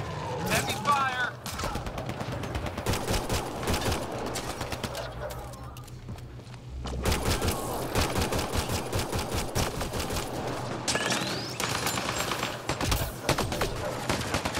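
Heavy gunfire rattles in rapid, dense bursts during an online firefight at Firebase Zero in Mass Effect Andromeda, pausing briefly before resuming loud and close under voices.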